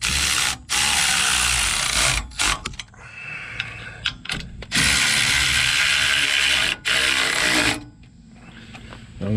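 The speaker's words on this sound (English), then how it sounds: "Tighten your sway bar bolts up using your 17mm socket." A ratchet with a 17mm socket tightens sway bar bolts on a Dodge Ram. It gives loud, rapid clicking runs broken by short pauses, very close and dominant, with no talk.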